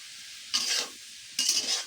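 Two brief bursts of a spoon stirring and scraping vegetables frying in mustard oil in a pan, each a short sizzling rasp separated by a quiet pause.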